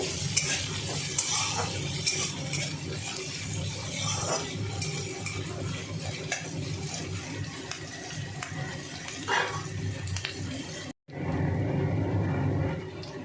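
Vola fish frying in a pan gives a loud, steady sizzle with spatula scrapes for about eleven seconds, then a brief cut and a smoother, quieter hiss continues.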